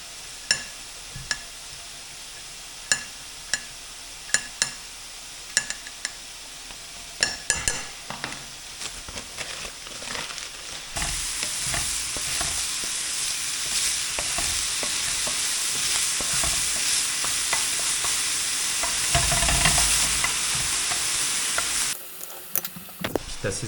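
Ravioli and lardons sizzle in a frying pan, steady broadband frying with repeated sharp clicks of a utensil stirring and scraping against the pan; the sizzle swells louder midway and cuts off near the end, with no talking.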